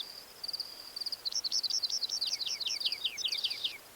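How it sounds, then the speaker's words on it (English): Rock wrens sing before dawn from eroded clay gullies: clear, high, repeated trilled phrases rattle off in quick bursts over a quiet background, fairly close and distinct. "Rock wrens sing from the eroded shadows of clay around me."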